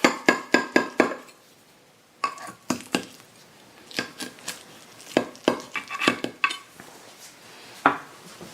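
A knife or utensil cuts a corner off a hot eggplant parmigiana with sausage, clinking and scraping against its dish in a quick cluster of sharp taps, then more scattered scrapes and knocks, close and fairly loud with no talking.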